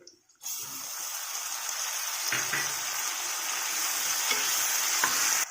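Mint and curry leaves stirred in a hot frying pan for egg rice, giving a steady close sizzle with a few soft scraping stirs, no talking.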